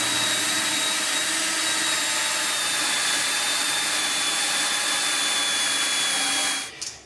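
A drill runs continuously at a steady high whine while boring out the center of scrap material for a generator air filter, loud and unbroken before stopping abruptly at the end.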